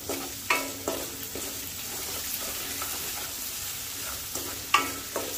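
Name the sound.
stirring salt into lemon rice in a pan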